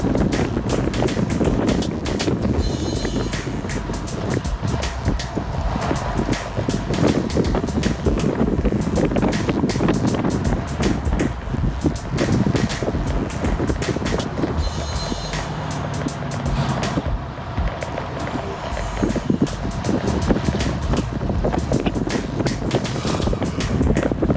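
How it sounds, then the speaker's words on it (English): Wind roars over the microphone while cycling at high cadence, a loud, constant buffeting rumble that fills the whole stretch with gusty surges and no speech. "The wind starts to pick up, so I lower my torso."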